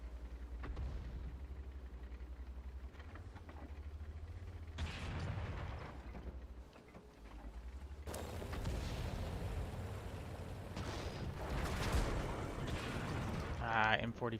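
M44 artillery fires in the World of Tanks video game, giving muffled distant booms. A heavier, louder burst of blasts and mechanical rumble comes midway, under someone talking.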